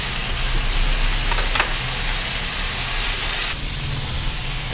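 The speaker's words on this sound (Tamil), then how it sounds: "இதை நல்லா வதக்கிடலாம்." Poha and tomato sauté in a hot pan with a loud, dense hiss and sizzle that drops a little in level partway through.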